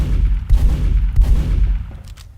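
Weapon reload and firing sounds in the video game Team Fortress 2: dense, close bursts of gunfire-like clatter and clicks with several sharp impacts, continuous and loud, no talking.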